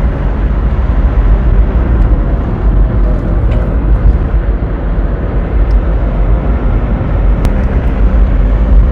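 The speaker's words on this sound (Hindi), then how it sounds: "वो इस सारे सफ़र में गाड़ी की जो आवाज़ है वो हमारे साथ ही रहेगी।" A vehicle travels by road with a loud, constant low engine rumble and road roar that continues unchanged, with a few faint clicks and no voices.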